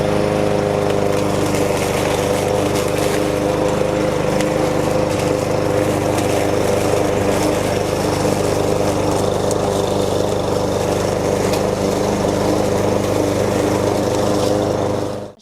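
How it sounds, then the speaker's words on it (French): Lawn mower running steadily nearby in a garden, a loud continuous engine drone with a constant pitch that lasts throughout and cuts off abruptly at the end. "pour l'instant, on fait ça tranquillement à la tondeuse"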